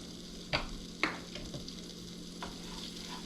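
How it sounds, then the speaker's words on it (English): Butter and flour whisked together in a pan over medium heat, making a roux for crab mac and cheese: a soft steady sizzle with a few sharp metal whisk taps against the pan, close and alone. "we're just gonna whisk it together until you cook out all the raw flour"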